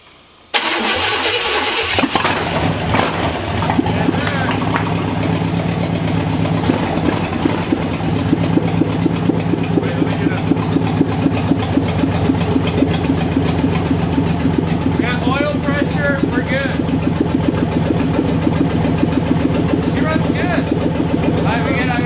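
Engine of an abandoned project Jeep fitted with a new injector cranks briefly, catches and settles into a steady, loud idle that runs for a long stretch, with people talking over it.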